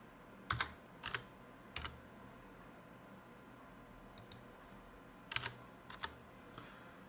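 A handful of sparse, quiet keystrokes on a computer keyboard while entering text into CRM software, spaced irregularly over a low room hiss.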